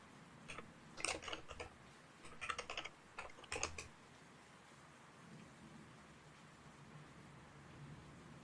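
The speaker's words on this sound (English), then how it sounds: "I don't want to keep typing this" Bursts of computer keyboard typing, clustered in quick clattering runs over the first four seconds, then a steady low hiss of rain-like background noise while the keys fall silent.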